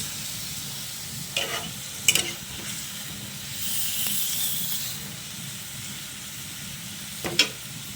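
Chicken adobo with potatoes sizzles steadily in a pan as soy sauce is added, a soft continuous hiss broken by a few sharp stirring scrapes.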